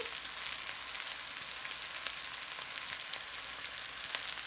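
Potatoes sauté in a hot pan with a continuous, even hiss of crackling oil, close and moderately quiet, with no voices.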